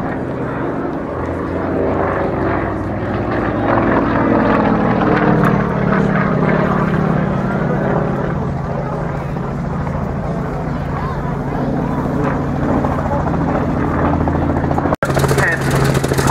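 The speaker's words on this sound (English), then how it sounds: "9-cylinder radial engine." A Yak-52 with a 360-horsepower nine-cylinder radial engine drones loudly and continuously at an air show, a low rumbling propeller roar that holds steady throughout while a commentator talks over it.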